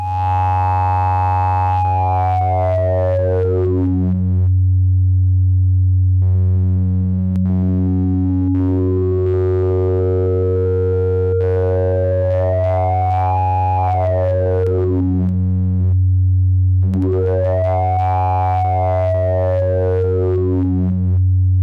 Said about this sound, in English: this is what oscillator sync sounds like when the wavetable is a sine wave